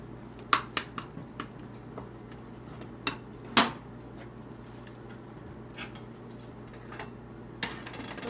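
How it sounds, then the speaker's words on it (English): Heavy cream being folded into shrimp and grits in a pan, with a spoon clinking and scraping against the metal in a few sharp taps and quieter scrapes over a low kitchen hum, and no talking. "Okay, so we're mixing our heavy cream in,"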